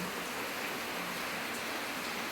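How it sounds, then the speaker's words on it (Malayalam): Heavy rain falling outside, a steady broadband wash of noise with no breaks, moderately loud and continuous throughout. "പുറത്ത് നല്ല മഴയാണല്ലോ"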